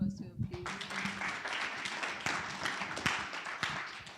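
Audience applause at an inventors' research and innovation forum: a dense, steady patter of many hands clapping. A few brief voices come first, and scattered sharper claps stand out over the constant wash.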